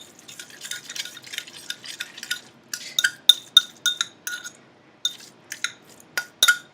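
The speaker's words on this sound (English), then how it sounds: "I'm just mixing up the mayonnaise in with the tuna" A fork mixes mayonnaise into tuna in a bowl, giving a run of close, light clinks and scrapes against the bowl in uneven bursts, quiet at first and then sharper and more spaced toward the end, with no talking.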